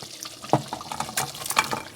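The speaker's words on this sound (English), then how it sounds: "I'm going to pour it inside the stew now." Cow leg meat and its liquid poured into a pot of Nigerian party stew, giving soft, uneven splashing and sloshing, fairly quiet and heard alone.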